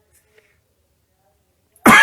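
A single sharp, close cough bursts out at the very end after nearly two seconds of near silence.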